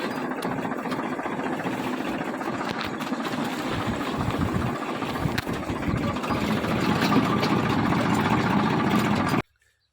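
Tractor engine running on a farm on the way to fetch Napier grass, a steady close mechanical drone throughout that cuts off abruptly at the end, with no talk over it.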